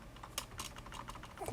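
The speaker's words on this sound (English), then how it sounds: "Typing the keys on this laptop" Someone types on a laptop keyboard, a quick run of soft, faint key clicks in an uneven rhythm, heard alone without speech.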